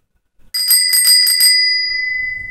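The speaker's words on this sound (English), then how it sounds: "Put a little bell on here." A small bell fitted to a 2000 Cannondale R300 road bike, rung in a quick burst of about five bright, close metallic dings that then ring out and fade alone.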